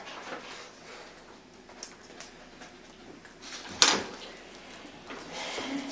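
A door opens during a local council meeting in Asău, a brief sharp clunk standing out against faint room noise and scattered small knocks.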